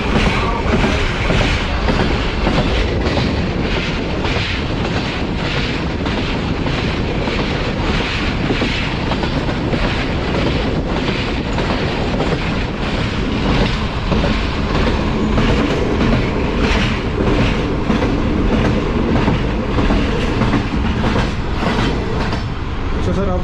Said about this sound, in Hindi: अभी दरिया जेलम से पास हो रही है 6 डाउन ग्रीन लाइन।